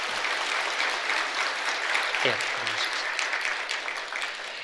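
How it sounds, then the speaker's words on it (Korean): A church congregation at a Sunday service gives sustained, even applause in welcome, a broad wash of many hands clapping at moderate distance, with a brief voice speaking over it partway through. "큰 박수로 환영하겠습니다."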